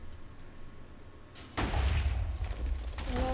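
A TNT cannon blasts during a Minecraft-style PvP factions base raid, with one loud, close explosion followed by a rumbling, crackling tail that continues to the end.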